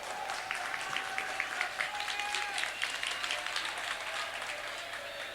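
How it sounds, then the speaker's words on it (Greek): Applause from the stands of a Greek basketball arena during a 1990–91 Cup game between Peristeri and Olympiakos, steady crowd clapping throughout at moderate distance with a faint whistle-like tone early on. "Χειροκροτήματα από την εξέδρα προς ενθάρρυνση του Αμερικανού"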